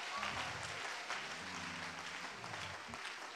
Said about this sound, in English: Come on, clap your hands and praise God.